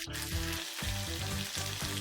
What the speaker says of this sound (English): This sizzling chicken skewer is really delicious and smooth.